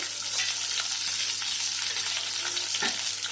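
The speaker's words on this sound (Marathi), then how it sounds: "लसणाच्या पाकळ्या चांगल्या लाल होईपर्यंत भाजायच्या आहेत" Garlic cloves frying in hot oil in a pan for a cheesy garlic bread sauce, a steady close crackling sizzle with small pops and faint scraping throughout.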